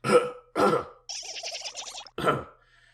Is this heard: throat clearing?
yes